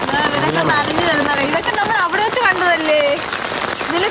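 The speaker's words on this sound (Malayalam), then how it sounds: "നല്ല മഴയായിട്ടുണ്ട്." Heavy rain in a forest pours down in a steady, dense hiss beneath a person talking almost continuously.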